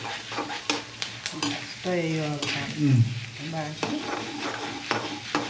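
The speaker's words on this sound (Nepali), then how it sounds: "हामीले भटमास सान्नको लागि भटमास भुट्दैछौँ" Soybeans fry and get stirred in a hot pan, a steady sizzle with scraping stir strokes, while a person speaks briefly over it.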